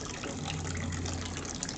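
Water gushes steadily into a container as a continuous close hiss with a low tonal hum beneath, heard briefly with no talking over it.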